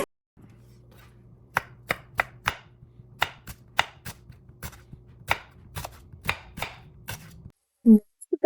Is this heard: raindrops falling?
no